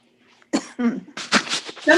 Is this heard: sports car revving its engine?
no